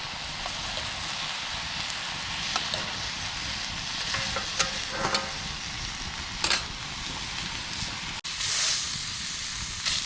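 A full pot of ramen with vegetables cooking over a campfire, stirred with clinks and scrapes against a continuous crackling hiss, close and steady, with a brief sharp dropout late on.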